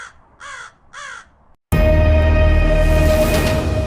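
Cartoon crows give three loud, close caws in a row, followed by a burst of dense, loud cartoon background music and effects.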